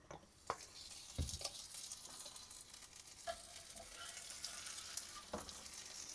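Food frying in desi ghee with a little oil, a faint continuous crackling sizzle with occasional soft knocks and taps of a utensil.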